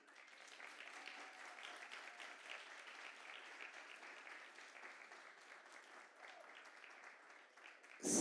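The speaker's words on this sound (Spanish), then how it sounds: "primero con ese aplauso que le van a dar quienes no son padres" A church congregation applauds fathers on Father's Day with steady, fairly faint clapping that goes on without a break for about eight seconds.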